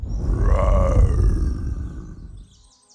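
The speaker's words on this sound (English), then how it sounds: "I wonder who could be making such a loud roar." A loud animated lion roar from a children's cartoon: one long, rising-then-falling growling roar that dominates for about two seconds, then trails off, with faint chirps at the end.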